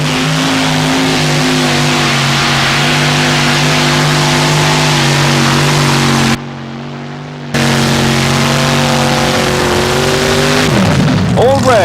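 A tractor-pulling vehicle powered by two crank-to-crank engines roars loud and close in a sustained, steady drone. The engines cut out briefly before surging back to a heavy revving roar.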